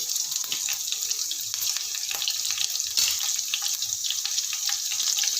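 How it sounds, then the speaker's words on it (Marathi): Four chopped green chillies fry with browned garlic in hot oil, giving a loud, steady, crackling sizzle throughout with no talking. "आता मिरची पण छान परतून घ्यायची"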